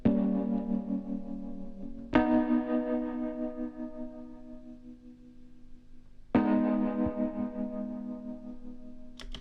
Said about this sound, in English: when it goes through the Gemini, and we use the vibrato, and we use the reverb, actually full on for this, it's just so amazing sounding